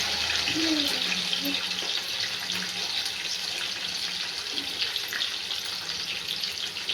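Sliced bitter gourd (karela) fries in hot oil, giving a steady, soft sizzling hiss that stays fairly quiet and continuous, with no speech.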